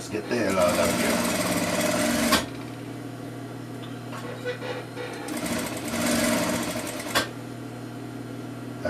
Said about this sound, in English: Right now, I'm sewing my colors, so there goes the black.